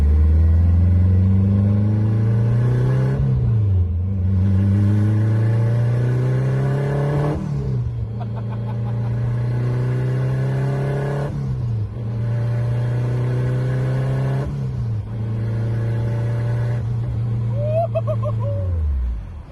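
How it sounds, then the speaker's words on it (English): A turbocharged Acura RSX engine revs hard and climbs through several gears, each shift dropping the pitch before it rises again, loud and close throughout. "This car is finally boosted."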